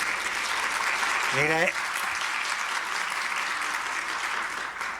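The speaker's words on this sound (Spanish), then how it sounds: "démosle un aplauso al doctor y a todos ustedes" An audience of doctors applauds after a cardiology talk on high blood pressure, a steady wash of many hands clapping at moderate distance, with a brief voice rising over it early on.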